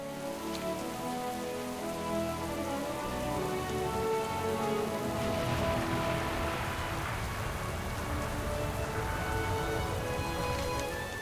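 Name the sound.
rain falling in World of Warcraft video game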